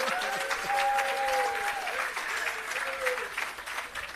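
Audience applause after a speech at the commissioning of an irrigation system in Parnassus, Jamaica, steady and moderately loud clapping across the whole stretch with a faint tonal hum beneath.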